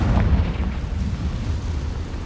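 A Confringo fire spell explodes in a Harry Potter video game, a dense, rumbling blast that roars steadily for a couple of seconds with no one speaking.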